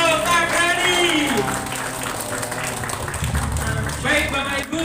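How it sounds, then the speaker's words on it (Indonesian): An audience at a closing savings and income seminar claps, a steady spread of applause continuing throughout while a voice talks over it. "Beri tepuk tangan yang meriah untuk tim Afrial Takrani."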